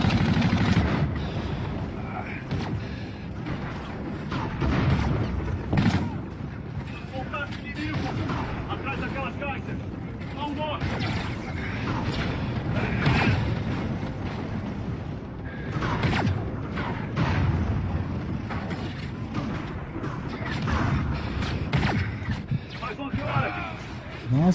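Gunfire in a space war video game, with repeated shot bursts and mechanical clatter running throughout amid dense battle noise, while someone talks excitedly over the action.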